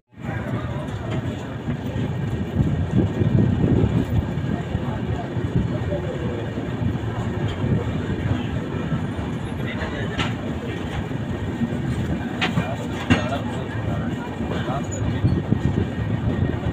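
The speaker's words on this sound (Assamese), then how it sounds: "Rajdhani ডিপৰ্ট from বৰেলি junction" The Rajdhani express pulls out of Bareilly Junction, heard from on board with a steady rumble of wheels and carriages, sharp clanks and squeals now and then, and voices talking throughout.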